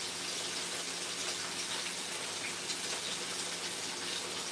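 Water pours into a skillet of potatoes with a steady hissing, splashing rush that stays constant throughout, close and fairly loud, with no speech.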